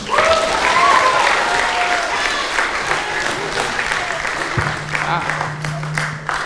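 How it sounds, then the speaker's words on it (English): A school chapel congregation applauds as a prefect is called up to speak. The clapping is loud and continuous for the whole stretch, easing slightly toward the end, with a low hum in the background. "Let's have a round of applause for Charles"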